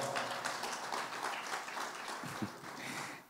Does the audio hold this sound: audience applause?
yes